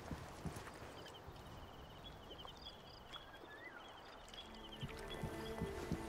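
Horse hooves clip-clop in Assassin's Creed Origins, a quiet, steady trotting rhythm that picks up slightly toward the end, with faint ambient game sounds behind it.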